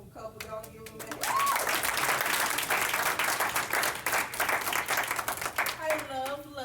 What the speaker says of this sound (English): Y'all give them a hand.